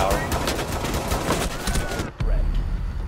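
Rapid gunfire from Rainbow Six Siege fills the moment, a dense burst of shots under a speaking voice, then a brief drop before game noise resumes.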